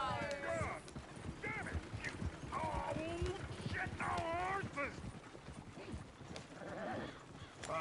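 Clip-clopping horse hooves in Red Dead Redemption 2, with snorts and a whinny, mixed with overlapping speech and background clatter.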